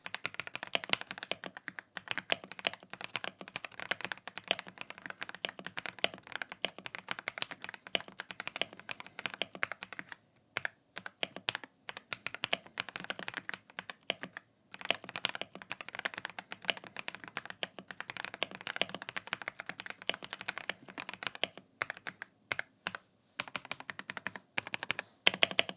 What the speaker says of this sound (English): I'm really surprised with the sound of this keyboard, because this is pretty nice